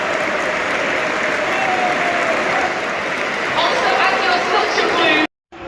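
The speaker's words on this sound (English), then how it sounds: "you can hear the applause in the background" A stadium crowd at Manchester City versus AFC Bournemouth applauds Kevin De Bruyne's farewell, loud sustained clapping with some cheering that swells near the end before breaking off abruptly.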